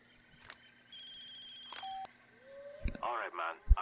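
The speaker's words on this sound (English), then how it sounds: "I'm going to get a phone call now." An incoming phone call in the video game Far Cry 2 plays as a series of electronic beeps and tones, quiet at first, before a voice comes in near the end.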